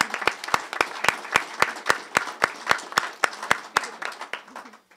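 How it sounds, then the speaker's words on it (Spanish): Applause at a tenth-anniversary ceremony, a small group clapping in a steady, fairly sparse rhythm that fades out at the end. "les voy a solicitar que desde su lugar se pongan de pie para que les podamos brindar uno por uno un gran aplauso"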